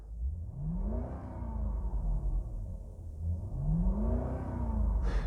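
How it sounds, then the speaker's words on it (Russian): Toyota Crown Majesta 4.3-litre 280 hp engine running quietly inside the cabin, a low hum that rises and falls gently twice as revs lift slightly, smooth and muffled. "Обратите сразу внимание на шумоизоляцию, как тихо и качественно, аккуратно работает мотор."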